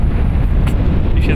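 Strong, gusty wind on a lake during boat fishing for pike with spinning gear buffets the microphone in a loud, continuous low rumble, with no speech.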